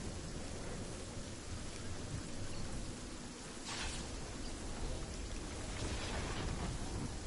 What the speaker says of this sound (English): It's pouring rain. You can hear it.